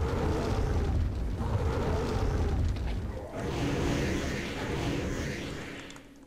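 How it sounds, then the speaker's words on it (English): A fireball spell in Might and Magic 8 roars out as a loud, sustained rumbling blast, swelling again into a second fiery whoosh that fades away toward the end. "Yeah, I could shoot fireball."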